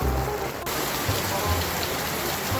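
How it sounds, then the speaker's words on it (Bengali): Steady rain pours down outdoors, a dense continuous hiss of drops hitting surfaces close by, filling the whole moment with no speech over it. "দেখতেছেন, এটা হলো বৃষ্টির বর্তমান অবস্থা।"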